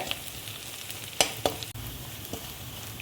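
Chili powder and turmeric powder frying in a pan for a Kerala drumstick-leaf and egg thoran, heard as a soft, steady sizzle with a few sharp stirring clicks and scrapes close by.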